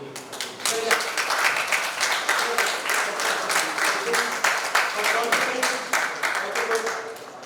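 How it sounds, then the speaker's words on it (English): An audience at a resort gathering breaks into sustained clapping that holds steadily for several seconds and then begins to thin out toward the end. "let's give him a clap for the communication"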